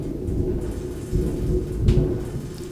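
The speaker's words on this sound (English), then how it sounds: "something behind me is like rattling from that thunder." Thunder rumbles low and heavy during a storm, with a deeper swell near the end, while something indoors rattles faintly from the vibration, steady rain hiss underneath.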